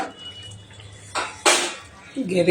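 A lid goes onto a pot of meat cooking on the stove, giving a couple of short metallic clatters and a scrape at close range, with quiet kitchen noise between them.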